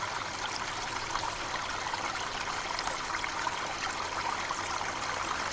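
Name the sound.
natural waterfall, water flowing over a cliff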